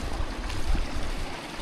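River water rushing steadily at a serious river crossing on the Cape Wrath Trail in the Scottish Highlands, a broad continuous wash of flow with no voices.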